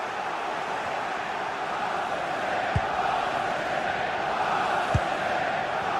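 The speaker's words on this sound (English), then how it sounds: "just listen to the crowd. They know this is a big chance to equalise." Steady roar of a football stadium crowd in a video game match, with Manchester United defending a corner, holding a constant broad wash for several seconds with two brief sharp knocks, no voices standing out.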